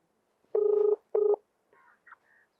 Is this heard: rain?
no